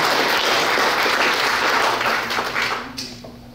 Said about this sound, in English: let's give her a great round of applause for her service to America.